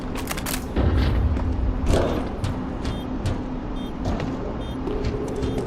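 A flashbang grenade goes off during a Counter-Strike 2 round, a heavy boom and thud near the start, followed by a rumbling tail and scattered game noise with short electronic beeps.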